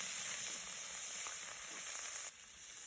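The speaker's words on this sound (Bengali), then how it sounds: "মাছ ভাজার তেলে দিয়ে দিচ্ছি জিরে, দিচ্ছি পেঁয়াজ রসুন বাটা, এটা আছে আদা বাটা, আর এটা আছে জিরা বাটা," Cumin with onion-garlic and ginger pastes frying in oil left from frying fish, a continuous bright hiss and sizzle close by, steady and fairly loud, dropping slightly near the end.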